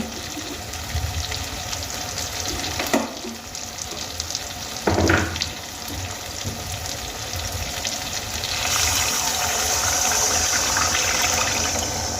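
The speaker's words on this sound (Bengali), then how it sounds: "এবার আমি এর মধ্যে দিয়ে দেব পরিমাণ মতো জল" Water poured into a pan where Lailontika fish fries in spiced masala for an oil-jhal curry, a steady sizzle swelling into a louder hiss and bubbling toward the end, with a couple of brief clatters of utensils and no talking.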